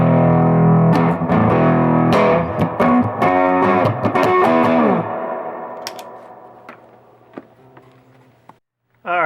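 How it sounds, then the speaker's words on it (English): Electric guitar played through a simple homemade distortion circuit, a loud buzzing run of strummed chords and notes for about five seconds, then a long ringing decay with a few faint plucks and a final sharp hit. "this was messing around with a couple of different approaches to the frequency pass-through on the simple distortion circuit"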